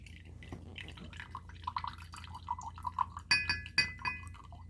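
Soy sauce poured into a glass measuring cup for a Korean vegetable stir-fry, heard as soft drips and glugs with a few bright clinks of glass, quiet and close.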